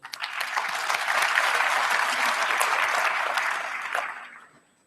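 A graduation ceremony audience at the University of Johannesburg bursts into sustained applause, broad and even clapping that rises quickly, holds steady for several seconds, then fades away.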